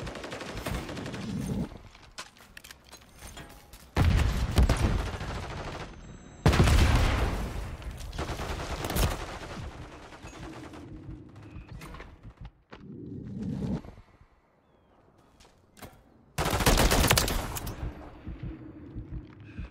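Gunfire from Call of Duty: Modern Warfare 3 in ranked multiplayer: loud bursts of rapid automatic shots in several separate volleys, with quieter game noise in the gaps.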